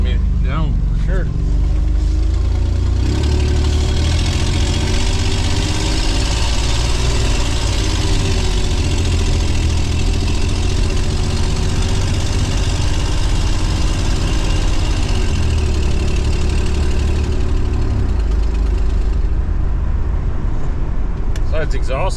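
A 1990 Ford van with an exhaust leak runs steadily, a loud, rough, continuous engine drone held close for over twenty seconds with a slight rise and fall in pitch partway through.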